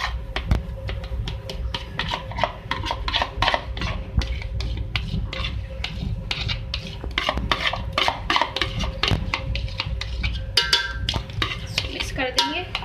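Chicken biryani marinade with yogurt is stirred in a dish, giving steady close scraping and clinking of a utensil against the container throughout, with faint background sounds.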